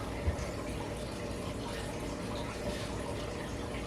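Vinegar poured into a cooking pot while making Chinese sweet and sour pork, a steady splashing liquid stream running evenly throughout at moderate, close level with no voices.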